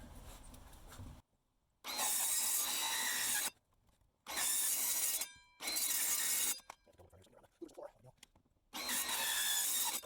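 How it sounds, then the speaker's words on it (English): A saw blade plunge-cuts through the floor of a Jeep YJ to open fuel pump access, loud harsh grinding bursts in four separate runs with short quiet gaps between, close up with faint scraping in the pauses. "all I did was put the blade just barely below the foot, and I'm doing plunge cuts down, and then obviously moving it forward"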